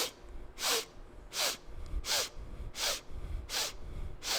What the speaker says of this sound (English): Breathing in strokes through the nose.